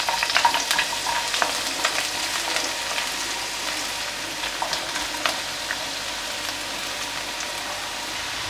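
Sliced onion hits hot coconut oil and fries with a dense, continuous sizzle and fine popping crackles, loud and close, with occasional soft knocks of stirring and no voices.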